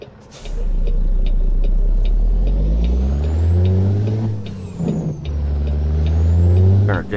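A semi truck on an Arkansas highway, its engine and Jake brake rumbling loud and close with a rising and falling drone and a hiss of air, running continuously with no talk.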